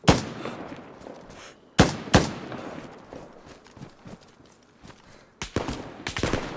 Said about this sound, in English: I'm about to shoot again to kill some zombies